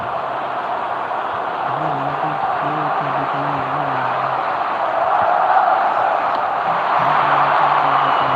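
Stadium crowd in an eFootball 2026 match, a dense, continuous roar of thousands of fans that swells slightly toward the end, with a commentator's voice faintly audible beneath the din.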